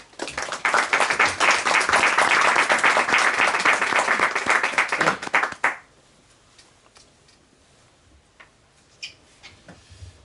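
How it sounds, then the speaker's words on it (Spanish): A book-launch audience applauds to welcome an essayist to the stage: dense, steady clapping for about six seconds, then it cuts off quickly, leaving a quiet room with a few faint scattered sounds. "les pido un fuerte aplauso para recibirle"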